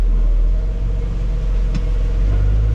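A farm tractor's engine runs steadily with the PTO engaged to drive a hay baler during a May hay harvest, a loud, continuous low rumble close by with no talk over it.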